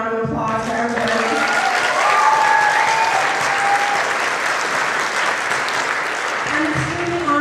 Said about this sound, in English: Let's just give them a round of applause for everybody.